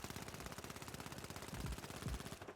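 The M11 in the video game THE FINALS fires a rapid, unbroken automatic burst, dense and rattling, sustained for the whole stretch with no talk over it.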